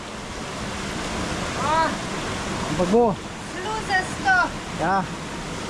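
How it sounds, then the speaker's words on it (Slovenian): Rushing water from small waterfalls two to three metres high in a gorge in the Idrijca and Sovra valleys, a constant broad roar that sits under people speaking. "Skozi naj spremljajo taki majhni slapiči. 2 do 3 metrski."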